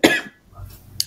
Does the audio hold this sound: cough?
yes